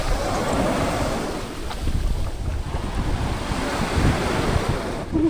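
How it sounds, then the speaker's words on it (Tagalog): Strong wind and ocean surf pound the shore on Capul Island in the Philippines on a rainy morning, a loud, continuous rushing roar of breaking waves mixed with gusty wind buffeting the microphone, with no voices. "Lakas ng hangin, pati yung alon."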